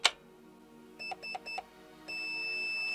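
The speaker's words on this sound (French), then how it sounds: "Un bip, 3 bips, donc semi-burst." Electronic chirps from an airsoft P90's ETU PERUN trigger unit: one beep, a rapid trio, then a long sustained tone that runs to the end, close-up and clean with no voices.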